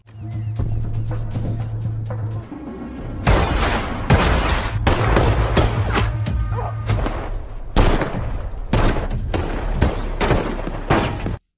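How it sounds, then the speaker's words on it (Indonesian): Rapid bursts of gunfire in an action film shootout crack and boom in clusters, loud and close, with heavy thuds and shattering impacts layered over a low droning score. "Kemudian aksi tembak-tembakan pun terjadi."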